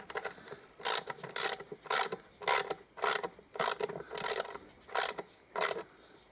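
A ratchet wrench tightening a bolt on a compressor clicks in about ten quick, regular bursts, close and fairly loud, with short pauses between strokes.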